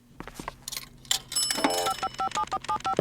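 A telephone rings in a quick repeating electronic trill, fairly close, amid some background clatter and noise.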